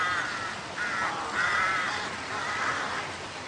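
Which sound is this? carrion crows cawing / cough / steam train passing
carrion crows cawing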